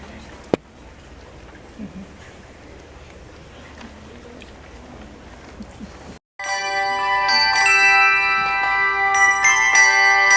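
A handbell ensemble playing bronze handbells in a well-known classical piece, with ringing sustained bell tones entering after a quiet stretch of room noise and continuing loud and layered to the end.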